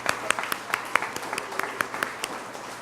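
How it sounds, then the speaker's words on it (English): A round of applause from a school science celebration audience for its students and teachers, with sparse, distinct claps at an uneven rhythm over a soft wash of background noise. "So we just want to give you all a round of applause."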